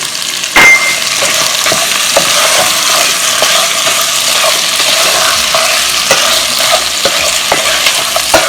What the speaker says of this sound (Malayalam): അപ്പൊ അത് വരെ ജസ്റ്റ് ഒന്ന് നമ്മൾ മീഡിയം ഫ്ലെയിമിൽ വെച്ചിട്ട് ഒന്ന് ഇളക്കി കൊടുക്കാം.